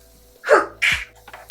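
A single close sneeze, a sharp indrawn breath then a loud explosive burst, heard alone in a quiet room.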